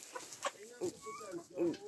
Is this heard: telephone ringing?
no